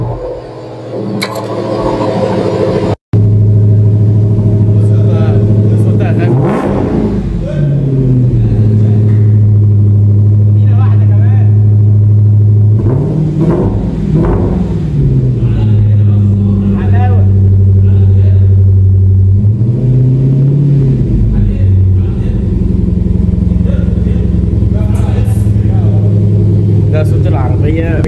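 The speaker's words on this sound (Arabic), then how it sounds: "تعالى نسمع صوت العربيه، الوحش الامريكاني اللي معانا النهارده" A Dodge Challenger SRT with a supercharged V8 idles with a deep, loud burble and is blipped three times, each rev rising and falling, heard up close with no speech.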